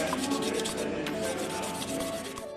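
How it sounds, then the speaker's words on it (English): Sandpaper rubs across a piece of silver being cleaned up for making a pair of rings, a continuous close, rasping scrub with rhythmic back-and-forth strokes. "Now I am going to use the sandpaper for clean out the piece of silver for make a couple rings."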